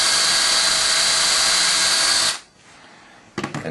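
A power drill whines loudly and steadily for about two seconds, enlarging holes in a wooden organ pipe cap, then cuts off; a brief clatter follows after a short pause.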